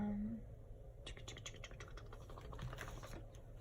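Buttons clack on a computer keyboard in rapid, uneven bursts of quiet taps, close by and with no voices.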